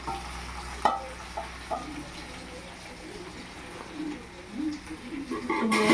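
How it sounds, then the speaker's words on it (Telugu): Fish fries on low heat in a covered pan, a faint, even sizzle running throughout with occasional soft clicks and a bird cooing in the background. "సిమ్లో పెట్టి మినిమం అరగంట వేయించుకోవాలన్నమాట"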